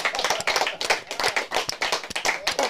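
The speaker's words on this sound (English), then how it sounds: "Applause" Studio audience on a hip-hop talk show bursts into brisk, loud clapping, individual hand claps distinct and close, a short burst with no talking.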